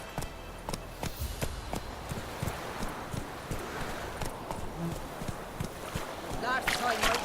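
Geralt's horse Roach galloping in The Witcher 3, a quick drumming clip-clop of hooves over ambient wind and movement noise, with some game sounds toward the end.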